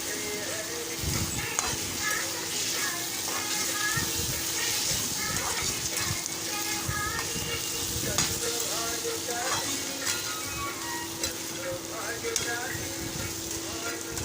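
Radish curry with turmeric stirred and frying in a pan, a continuous sizzle under repeated scraping strokes of a spatula, with some background voices and activity.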